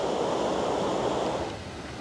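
A steady broadband rush of falling water from a waterfall in the Alsace, continuous and fairly loud without pause, easing slightly toward the end, with no voices.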